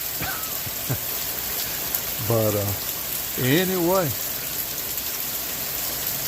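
Steady rain pours outdoors on a gloomy rainy day, a dense, even hiss of drops on surfaces running throughout, while someone speaks a few words briefly over it.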